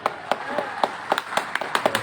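A class of students at a recognition day claps together, giving about a dozen distinct, loosely spaced hand claps close by in an uneven rhythm, with faint voices underneath.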